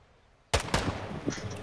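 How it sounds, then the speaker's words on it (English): One gunshot fired in Call of Duty: Modern Warfare 2, a single sharp loud crack that bursts out of near silence and leaves a rumbling echoing tail. "Fire one shot."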